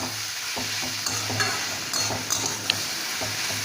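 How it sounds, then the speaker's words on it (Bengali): Taro stolons and onion sautéing with ground spices in a pan, a steady sizzle broken by repeated scraping stirs and a few sharp utensil clicks, close and alone. "এবার গুঁড়ো মশলাগুলোর সাথে লতি আর পেঁয়াজটাকে ভালো করে কষিয়ে নেব।"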